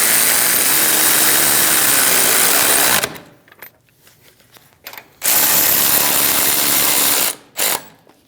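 A power ratchet snugs down caliper bolts on a 2001-2006 Chevrolet Silverado 2500 HD, a loud close buzzing whir in two long bursts with a short final burst, separated by quiet pauses.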